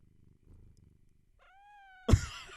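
A pet cat, being petted, gives a low rhythmic purr, faint and close, then a short rising meow, followed by an abrupt loud thump.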